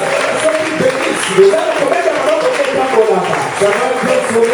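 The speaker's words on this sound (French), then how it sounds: "Est-ce que nous pouvons donner des acclamations de Dieu?" Crowd of church worshippers shouting acclamations with light clapping, a sustained, close wash of many overlapping voices rising in brief surges without a break.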